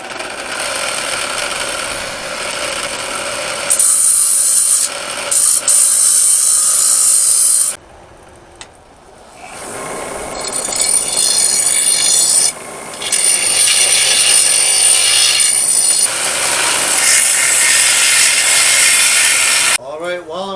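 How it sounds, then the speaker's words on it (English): A forged steel sword tang is ground down after forging, a loud harsh rasping grind in long close passes broken by brief pauses. "while I'm grinding that piece"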